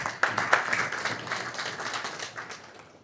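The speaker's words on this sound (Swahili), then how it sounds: "Hilo kwa kweli naomba tuwapongeze, tuwapigie makofi." A short burst of clapping and applause from a seminar audience in Mtwara, Tanzania, fading gradually over a few seconds, with no one speaking.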